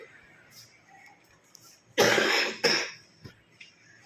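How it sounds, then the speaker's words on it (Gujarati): A person coughs in two close, loud bursts, a harsh fit near the microphone, with faint background noise around it. "ઉધરસ થઈ ગયા"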